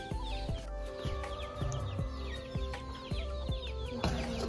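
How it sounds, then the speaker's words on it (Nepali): Chickens cluck repeatedly at a rural village home in Nepal around feeding time, a steady run of close, rhythmic clucks with smaller birds chirping in the background. "म भने कुखुरालाई चारो दिन हिँडेको"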